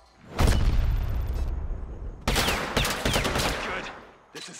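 A grenade blast and gunfire in a video game fill the moment: a heavy, close boom rolls out, followed shortly by a sharp burst of rapid shots, with no speech over them.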